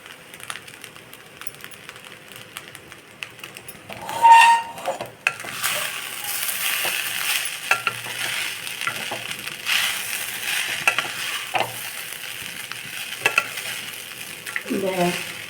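Spiced corn rice with lemon, chilli powder, turmeric and garam masala is stirred and fried in a kadai, giving a steady soft sizzle with scraping strokes and a louder burst as the food first goes into the pan.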